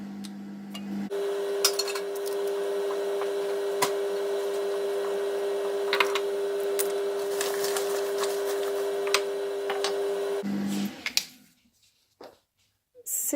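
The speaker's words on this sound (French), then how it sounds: "il va donc chauffer pendant 25 secondes à 40 vitesse 2" A steady motor hum from an Icookin food processor heating and stirring at speed 2 runs for about ten seconds with faint clinks over it, then stops abruptly, leaving near silence.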